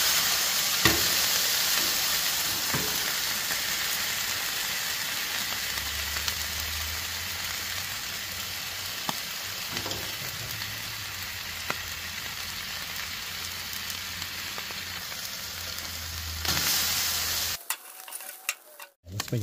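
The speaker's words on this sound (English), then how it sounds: "Get down for about 10 seconds, just like you do with your patty." A smashed burger patty sizzles on a Blackstone griddle in a dense, steady hiss with occasional scrapes and taps, then cuts off abruptly near the end.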